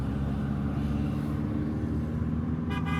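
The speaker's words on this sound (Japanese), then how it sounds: "この車なかなか良いエンジン音なのですが" A steady car engine drones low and continuous on a drive out of Samarkand, Uzbekistan, with a brief horn-like tone near the end.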